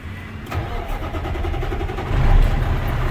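A 2006 International 7600 crew cab flatbed truck's diesel engine cranks and fires up, settling into a loud, close, steady rumble that swells louder near the end of the short burst.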